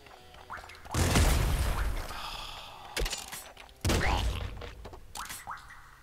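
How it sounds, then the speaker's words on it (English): Heavy crossbow shots in the pixel-art shooter Nuclear Throne, a few loud thumping impacts with bursts of game noise between quieter gaps, standing alone with no talk. "I should not be using a heavy crossbow on a rat"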